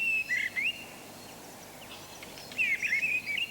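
Missel thrush and song thrush singing together in a British garden setting: two bursts of clear whistled phrases, moderately loud and slightly distant, separated by a quiet pause of about two seconds.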